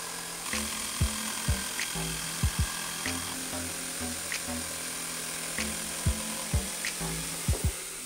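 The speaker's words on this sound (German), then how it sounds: "Stichsäge zur Hand, ausgesägt." A jigsaw cuts out a panel for an Intertechnik speaker cabinet, a steady whining motor hum broken by recurring knocks and thumps as the blade works through the wood.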